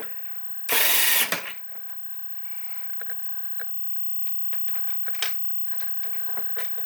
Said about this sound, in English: you may note I'm using the electric screwdriver